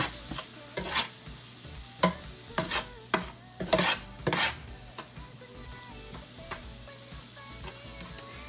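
Onion and a teaspoon of garlic powder stirred around a hot, sizzling pan, with a low continuous fry under a series of sharp utensil scrapes and knocks clustered early, then thinning out toward the end, close by, no talking.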